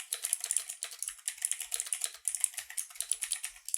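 Many computer keyboards clatter at once during an online trivia tournament, a dense, steady patter of overlapping keystrokes and clicks with no voices.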